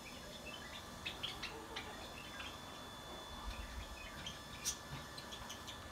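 Birds in a garden bird reserve, including royal pigeons, give faint scattered chirps and calls against a quiet outdoor background, with no talk.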